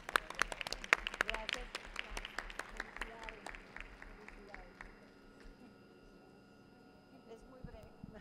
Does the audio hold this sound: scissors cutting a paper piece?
no